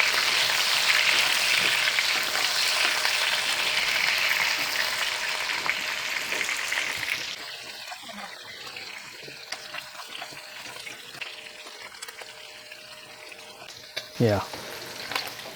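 Shrimp frying in plenty of oil in a pan: loud continuous sizzle for about seven seconds, then quieter kitchen sounds with clinks and a brief word spoken.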